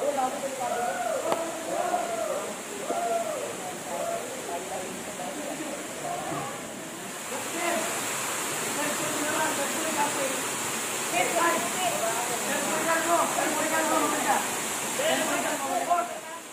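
Patal Falls, a waterfall in Barangay Batyawan, pours with a steady, dense rushing roar that stays close and loud throughout, while a person talks over it.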